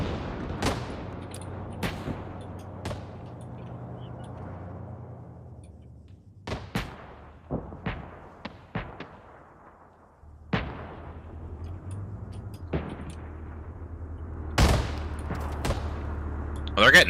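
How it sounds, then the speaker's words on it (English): Gunfire in the video game Arma, heavy rifle and artillery-like shots cracking in irregular bursts with long echoing tails, some distant and some close, under occasional talk. "Oh no, they are actually shooting at Slender."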